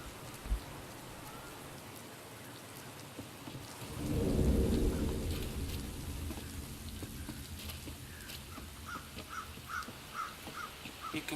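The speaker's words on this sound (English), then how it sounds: "Bit of rain today." Rain and thunder in Warhammer Vermintide 2, steady rainfall with a rolling thunder rumble swelling in the middle, and crows cawing faintly in a repeating series toward the end.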